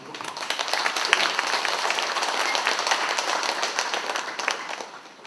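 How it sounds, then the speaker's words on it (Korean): An audience at a memorial lecture applauds to welcome a Buddhist monk guest, a dense, steady wash of many hands clapping that holds for several seconds before easing off. "박수로 환영해 주시기 바랍니다"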